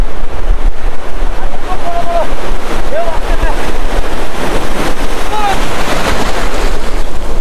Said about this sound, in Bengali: অনেক বড় বড় ঢেউ আসছে